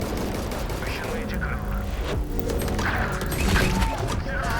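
Valorant gunfire cracks in quick bursts amid dense, loud in-game combat noise and impacts, with voices blending into the chaotic mix throughout.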